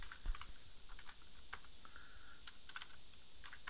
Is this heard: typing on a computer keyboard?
yes